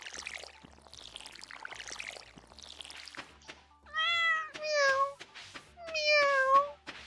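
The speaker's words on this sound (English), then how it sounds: "Kitty said meow." A cat in the farming game Stardew Valley gives two clear, loud rising-and-falling meows in the second half, after a stretch of quiet splashing and trickling water sounds.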